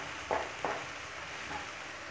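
Onions sautéing in a pan for kandathippili kuzhambu, a faint steady sizzle with a few soft stirring scrapes, quiet and close.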